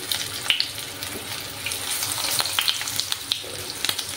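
Eggplant pieces frying in hot refined oil, a bright, busy sizzle with sharp spits and pops scattered over a steady hiss.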